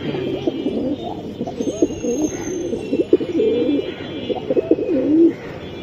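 Silver pigeons coo continuously up close, a steady stream of low, throaty burbling calls overlapping one another.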